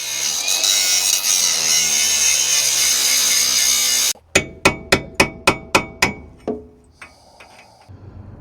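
An angle grinder scrapes steadily at slag around a rusted bolt on a Jeep CJ5 frame for several seconds. It then stops, and about seven sharp, evenly spaced metal hammer blows follow as the bolt is punched out.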